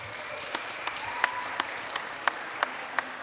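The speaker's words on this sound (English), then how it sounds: "A huge round of applause for those eliminated Omeganauts" Scattered applause at the PAX Australia 2019 Omegathon gaming contest, a soft wash of crowd clapping with a few sharp individual claps standing out at irregular intervals, moderately distant.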